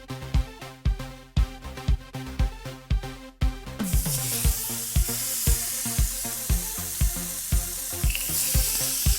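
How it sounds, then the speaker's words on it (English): A steak sears in a hot pan on a cooking show, a bright steady sizzle that starts about halfway through and runs on under a thumping beat of background music. "So while that's cooling, I'm gonna make my steak."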